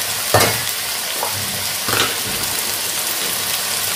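Frying in a pan while cooking a jackfruit curry with potatoes, a steady hiss and sizzle with a few brief stirring scrapes, close and continuous.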